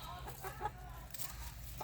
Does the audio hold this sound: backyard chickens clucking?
yes